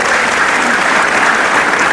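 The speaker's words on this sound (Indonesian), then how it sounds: "Lu bisa banget tepuk tangannya pengang tau." A studio audience at a television talk show claps loudly and continuously, a dense, even wall of applause close by with no break.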